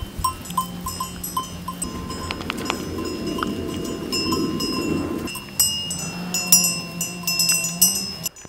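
A flock of sheep wearing bells wanders into a house garden in a foggy village, with clanking bell tones ringing steadily at close range over a low rumble and shuffling throughout.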